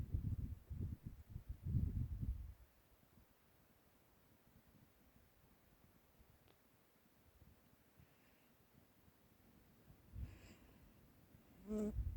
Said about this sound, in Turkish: Gördüğünüz gibi arılar mağla bir şekilde çalışıyor.